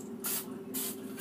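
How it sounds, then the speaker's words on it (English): Butter-flavored non-stick cooking spray hisses out of an aerosol can in three short, loud bursts, close up, with no talking. "No stick cooking spray. That's what it is, and it's butter flavored."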